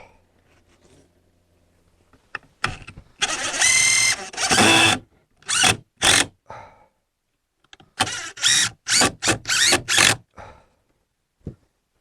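A power driver sinks screws into cut wooden pieces of a compost toilet framework, in several separate whirring bursts of a second or two each with quiet pauses between, close and loud.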